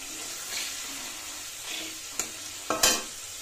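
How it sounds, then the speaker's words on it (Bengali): Hot pan frying green beans and drumstick pods seasoned with salt and turmeric, giving a steady soft sizzle broken near the end by a few sharp clinks and scrapes of stirring. "নুন হলুদ দিয়ে সামান্য ভাজা ভাজা করে এবার আমি এখানে শিম আর সজনে ডাঁটা"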